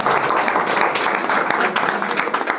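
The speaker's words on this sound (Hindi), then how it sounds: "एक बार ताली बजाओ यार इनके लिए" A group of people claps together in loud, dense, continuous applause close by, steady throughout the short stretch with faint voices mixed in.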